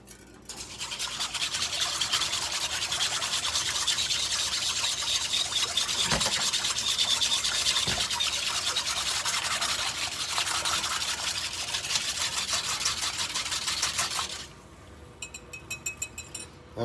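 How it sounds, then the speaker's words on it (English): A whisk stirs sugar, salt and black pepper together in a bowl, giving a continuous fast scratchy rubbing with faint clinks for about fourteen seconds. Then it stops, leaving a few light taps. "I'm just going to grab my whisk and get that all incorporated."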